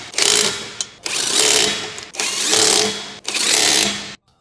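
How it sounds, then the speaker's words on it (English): An electric impact wrench with a 19mm socket drives wheel hub bolts on a 2012–2015 Chevrolet Cruze during a strut replacement, in four loud, close bursts of about a second each with short pauses between. "Use a 19mm socket with an electric wrench to tighten the wheel hub bolts."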